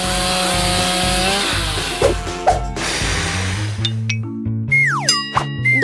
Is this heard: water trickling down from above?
no